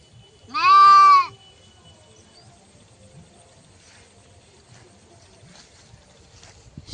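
A single loud, close sheep bleat near the start, then quiet outdoor ambience with faint scattered rustles for the rest.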